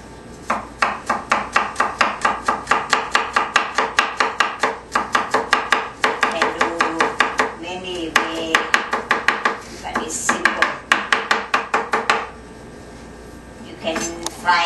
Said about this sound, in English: Oh, you chopped the garlic now.